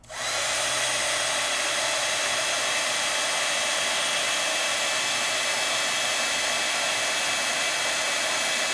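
A craft heat tool blows steadily to melt embossing powder, a loud, even, hissing whoosh like a hair dryer that starts abruptly and holds without pause and without talking.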